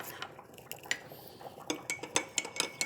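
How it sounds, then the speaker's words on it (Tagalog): A spoon scrapes and clinks against the metal pot as champorado, a sticky rice porridge, is stirred close up, in quick uneven knocks that grow busier toward the end. "Nahalo-halo na natin ang ating na champurado kasi kumukulo-kulo na siya."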